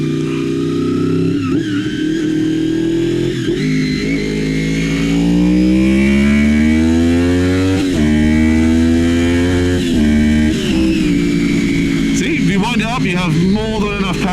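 A 1987 Honda VFR 400 R NC24 with an aftermarket exhaust and new air filter revs and pulls hard while being ridden, its engine note climbing and falling through the gears, loud and close throughout.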